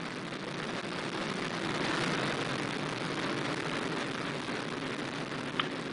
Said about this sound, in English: liftoff of the last West Coast United Launch Alliance Delta IV Heavy rocket carrying NROL-91